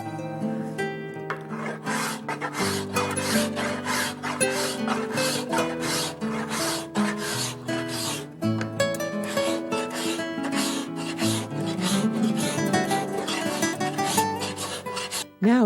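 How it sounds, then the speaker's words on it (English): Steady rasping strokes as a carved wooden canoe paddle's blade and handle are scraped while held in a vise, a continuous close, loud scraping texture with repeated rhythmic passes. "It is a good idea at this point to scrape both the blade and the handle"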